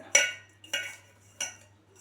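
Three distinct metallic scrapes and clinks as a spoon stirs a palm tuber mixture with country sugar in a pan, spaced about half a second apart, close and fairly quiet.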